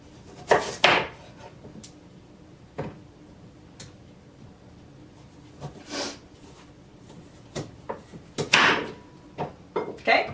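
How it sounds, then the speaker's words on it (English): Knife cutting a raw sweet potato into eight wedges on a board: several sharp, separate chopping knocks spaced irregularly, loud and close, with quiet pauses in between. "I'm supposed to cut this into 8 wedges."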